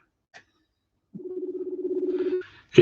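Outgoing telephone call ringback tone, a single steady pulsing burrr lasting over a second in otherwise near-silence, with a faint click before it and a sharp noise at the end.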